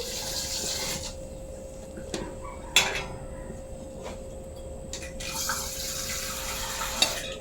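Tap water running into a sink in a home kitchen during cooking, a steady hiss interrupted by faint clinks of dishes and utensils, with no voices.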